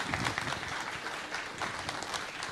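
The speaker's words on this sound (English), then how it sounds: "round of applause for our keynote speaker" A crowd applauds a keynote speaker at an agriculture-themed national dialogue event, with dense, steady clapping that holds at an even level for the whole stretch and no voices above it.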